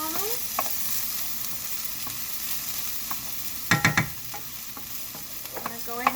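Vegetables sweating in a hot pan sizzle steadily and close, with a cluster of sharp utensil clinks and scrapes in the middle and scattered lighter taps; no speech.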